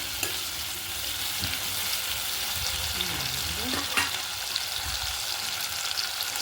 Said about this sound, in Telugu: చూసారా ఇలాగా రొయ్యలు అనేవి మంచిగా ఫ్రై చేసుకోవాలండి